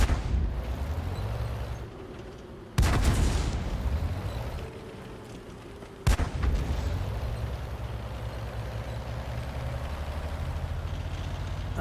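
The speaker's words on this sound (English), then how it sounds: "those are the Arty rounds coming in on the T34S" Artillery shells slam into T-34 tanks during a tank video game replay, two heavy booming impacts a few seconds apart over a steady low engine rumble, moderately loud with no talking.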